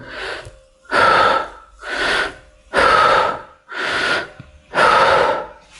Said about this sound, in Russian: Второе дыхание – это средней частью легких или реберное дыхание.